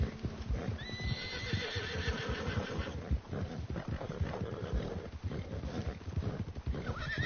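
A horse in Red Dead Redemption II gives a shrill neigh, then its hooves clop in a steady rhythm along with soft snorts, loud and close, with no talking.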